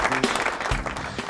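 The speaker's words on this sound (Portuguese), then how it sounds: "Mais aplausos." A brief burst of audience applause, a short patch of overlapping claps without any voices over it.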